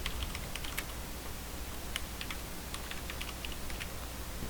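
Steady keyboard typing while assembler code for a PIC18F1220 microcontroller is entered, a continuous run of light, quick key clicks with irregular rhythm at close range, alone with no voices over a low background hum.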